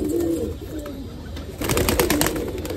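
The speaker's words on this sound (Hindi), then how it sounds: "उड़ने कर रहा है कबूतर मगर उड़ नहीं सकता है" A white pigeon with its wings tied struggles and flutters in place, unable to take off; soft cooing and wing rustles sound close, with a busier burst of flapping in the second half.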